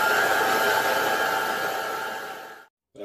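A kitchen machine kneads zserbó pastry dough with a loud, steady motor whir that holds for over two seconds, then abruptly stops before starting again.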